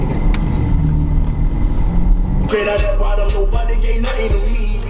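Interior of a 2021 Aston Martin DBX luxury SUV on the move: a steady low engine and road rumble runs throughout, with some cabin rattles and bumps growing busier in the second half.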